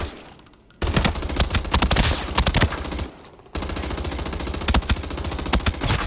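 An assault rifle loaded with T5 ammo fires in the shooter game Arena Breakout, two long loud bursts of rapid full-auto shots separated by a short pause.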